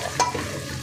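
A brief sizzle as tempering spices for dal hit hot oil in a pan, with a sharp burst of frying followed by a steady low crackle.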